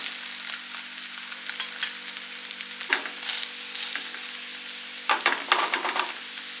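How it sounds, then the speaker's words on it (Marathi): An upavas thalipith crisps in a hot pan, giving a steady close sizzle with soft scraping bursts as it is lifted at the edges and turned, no voices present. "दोन्ही बाजूनी छान खरपूस भाजवायचं आहे आपल्याला"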